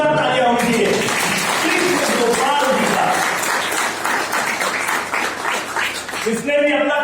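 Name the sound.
loud applause from the meeting audience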